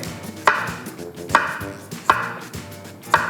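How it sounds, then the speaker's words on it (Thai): A knife chops steadily through a firm peeled bottle gourd on a board, four crisp evenly spaced cuts close by with no talking. "หั่นเป็นชิ้น"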